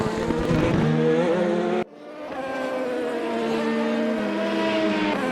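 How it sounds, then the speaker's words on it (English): A race car engine screams in a racing video game at Sonoma, a loud high-pitched whine that cuts off abruptly, then rises again as the revs climb and hold steady. "the smooth, docile sounds of Mike Stockbill's screaming car"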